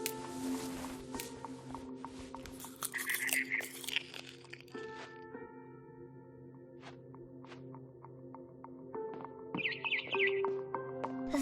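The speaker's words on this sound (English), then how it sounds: "Then I heard chirping outside my window. It was a barn swallow going back to her nest." Bright barn swallow chirps and tweets from a video game, What Remains of Edith Finch, come in scattered bursts over a steady electronic hum and faint crunching, with a busy, synthetic quality.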